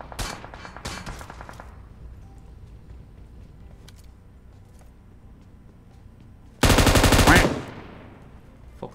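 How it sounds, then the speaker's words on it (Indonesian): Automatic gunfire in a shooting video game, rapid bursts early on followed by a louder, dense spray of shots a few seconds later, close and sharp. "ada yang nembak dari situ guys"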